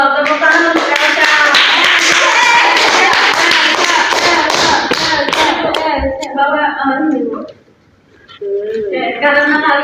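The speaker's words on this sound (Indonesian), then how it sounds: "Tepuk tangan untuk Elsa." A classroom of students claps in a lively, rapid burst of applause with voices mixed in; the clapping fades to a brief quiet, then talking resumes.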